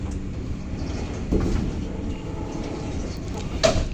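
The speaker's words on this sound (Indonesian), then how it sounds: "Kereta api Bengawan diberangkatkan dari stasiun Lempuyangan pukul 23:35." Bengawan passenger train at Lempuyangan station at night, with a low rolling rumble of railcars moving off and a brief squeal or clunk near the end.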